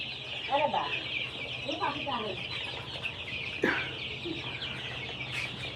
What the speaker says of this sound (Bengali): এই যে পাশে হচ্ছে সেই কাঙ্ক্ষিত ফার্মি মুরগি